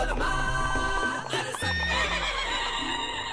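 A horse whinnies loudly in a cartoon, its high, wavering neigh rising over a busy music bed, with a second sharper cry near the middle and faint clip-clop under it.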